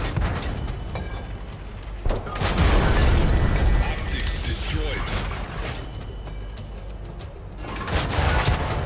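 Tank shell striking a target in World of Tanks console, a heavy boom with a mechanical crunch and rumbling impact bursts, followed by rattling game effects, all under a voice talking.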